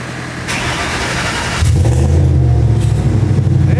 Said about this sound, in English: let's check out the cold start on this crazy Mustang build